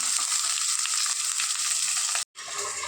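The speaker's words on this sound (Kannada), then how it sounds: "ಇನ್ನು ಈರುಳ್ಳಿ ಹಾಕಿ ಚೆನ್ನಾಗಿ ಕೆಂಪು ಆಗುವಷ್ಟು ಫ್ರೈ ಮಾಡ್ಕೊಳ್ಬೇಕು" Onion fries in a pan for a sprouted green gram soppina bassaru, a close, bright, continuous sizzle that cuts out briefly near the end and then resumes, with no voices.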